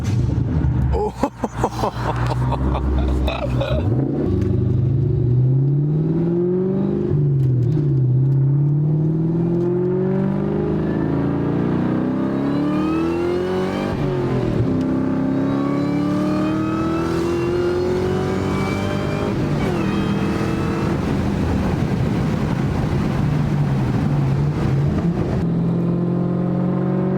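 A Terminator Cobra is driven hard, its engine revving loudly and close by in repeated rising and falling sweeps, with bursts of acceleration that continue throughout.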